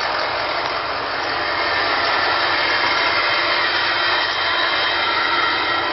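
Turbocharged engine of a 2004 Ford F450 XLT truck runs with a loud, steady, broadband whoosh and hiss, constant throughout without pauses or talk.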